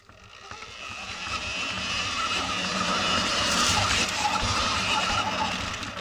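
A 2025 Sur-Ron Ultra Bee electric dirt bike pulls away at full throttle on an enduro trail, its rising motor whine and tyre noise swelling steadily over several seconds and staying strong, with no talk.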